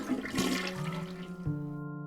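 Chron-O-John toilet flush from the adventure game Day of the Tentacle Remastered, a loud close rushing swirl of water with tonal whistling pitches that shift midway before cutting off abruptly.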